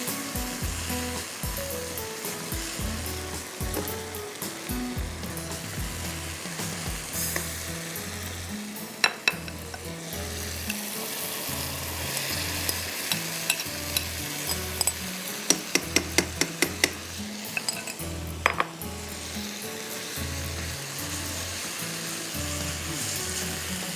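Mutton and potatoes frying in a balti, a constant sizzle cut by a regular rhythm of spoon scrapes and occasional sharp metallic knocks against the pan, close and with no voices.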